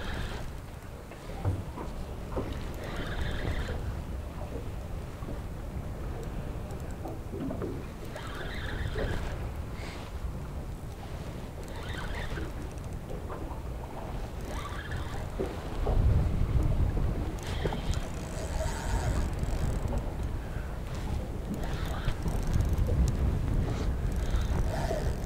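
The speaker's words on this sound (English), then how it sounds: "Still battling the wind." Strong wind buffets a boat fishing for snapper in the wash, making a steady, loud roar of gusty rumble and spray that never lets up.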